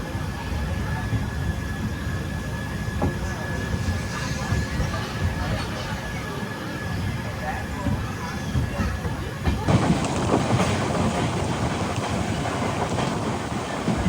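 Rumbling and wind rush of an LHB-rake passenger train running between Nagercoil and Thiruvananthapuram North, heard from aboard on a loop track, a steady broad roar that grows louder and harsher partway through.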